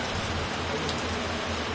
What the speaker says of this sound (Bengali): দেখেন, অনেক বৃষ্টি হচ্ছে।